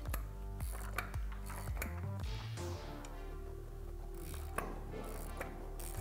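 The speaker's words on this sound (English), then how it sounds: "Then we're going to use a 14mm socket to get this tightened up" A ratchet with a 14mm socket tightens a flange nut on the front suspension of a Jeep Gladiator during a leveling kit install, giving steady close mechanical clicking with a few louder metallic knocks.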